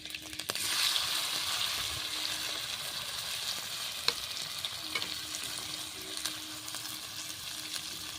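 Boiled, cubed potatoes fry in oil with cumin and chilli for jeera aloo, giving a continuous soft sizzle with occasional clicks from stirring and no talking.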